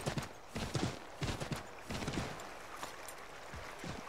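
Horse hooves clop along in Assassin's Creed III in an uneven rhythm, a run of moderate hoofbeats that fades slightly toward the end, with no talking.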